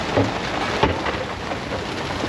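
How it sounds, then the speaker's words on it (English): Steady heavy rain from a squall roars without a break on a sailboat at sea, a dense hiss of water pelting down up close, with a brief thump partway through. "we just got hit by a squall"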